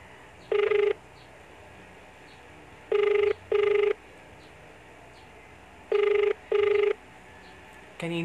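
Phone ringback tone heard while a call to an impostor posing as Victor Alabar is placed, repeating as paired double rings in a steady rhythm, three pairs over a faint background hiss, with no talking.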